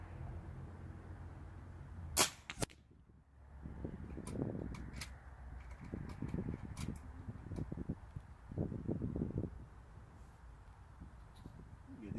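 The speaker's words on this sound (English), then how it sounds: "So I'm going to try to space my shots out and shoot with the wind blowing" A Hatsan Flashpup .25 caliber air rifle fires a single sharp, close crack outdoors, followed by gusty wind buffeting the microphone.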